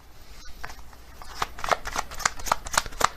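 A tarot card deck is shuffled close up, starting with a few soft flicks and building into a rapid, rhythmic riffle of crisp card snaps that grows louder toward the end, with no voices.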